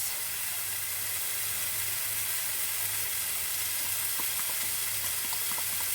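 Tomato and biryani spices sizzle in a pan with a continuous, even hiss of frying. Faint stirring clicks join in toward the end, and nobody speaks.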